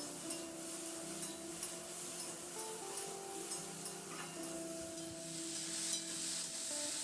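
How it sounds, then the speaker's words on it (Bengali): Okra and potato pieces with spices being stir-fried in a pan, a quiet steady sizzle under repeated soft scraping and stirring strokes, close and fairly faint, with no talking. "মিনিট দু তিনের মতো একটু নাড়াচাড়া করে ভেজে নেবো"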